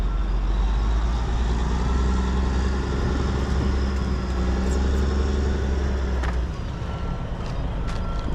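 A truck pulling a brand-new dump trailer rolls into a landfill, its engine holding a deep, constant rumble close by and then easing off near the end, with faint clanks and beeps over it.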